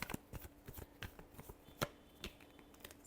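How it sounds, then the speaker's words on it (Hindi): Tarot cards being shuffled by hand, a quiet series of soft riffling flicks and taps in irregular bursts, close and faint with no talk. "last shuffle,"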